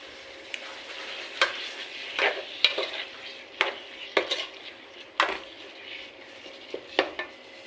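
Squid and tomato sizzle in a frying pan while being stirred, with a steady frying hiss under repeated scraping and clinking strokes of a utensil against the pan.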